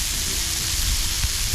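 Steak bites crisping on a hot griddle as the fat renders, giving a steady close sizzle with fine crackling throughout and no talking.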